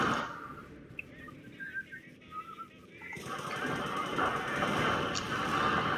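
Machine gun fire in a Company of Heroes match, faint and distant at first with short bursts and whistles, then a dense continuous rattle of gunfire and battle noise building up.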